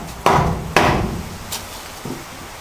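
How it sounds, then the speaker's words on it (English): A hammer strikes a block of wood held against the panel of a 1985 Mazda B2000 ute, two sharp loud knocks followed by two fainter taps, spaced out in the quiet. "got my piece of wood and my hammer"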